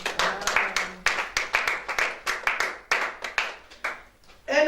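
A church congregation claps in a quick steady rhythm during worship, loud and close, with the clapping fading out near the end as a voice briefly comes in.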